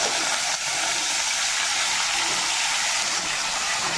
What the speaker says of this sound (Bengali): প্রথমে আমি কাঁঠাল আর আলু একসঙ্গে ভেজে নেব।